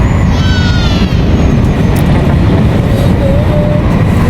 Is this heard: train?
yes